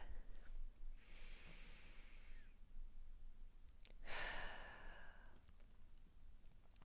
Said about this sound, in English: So I want you guys to take a deep breath.